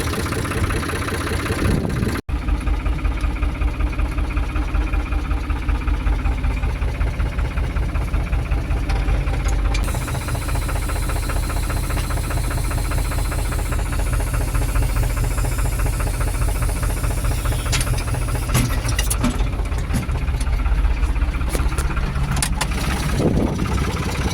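A small Kubota TN55S tractor engine idles steadily and close by, a continuous low rumble with a faint rattle that runs throughout, briefly cut near the start.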